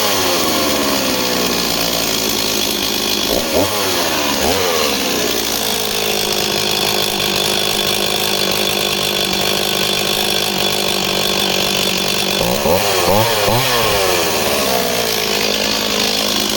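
A used chainsaw runs loudly and steadily up close, with its engine pitch sweeping up and down around two revving cuts, heard alone with no talk.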